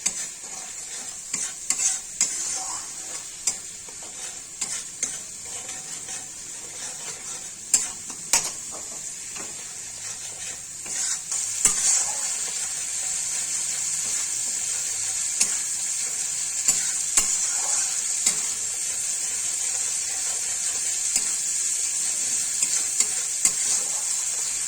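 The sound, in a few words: spices frying and being stirred in a pan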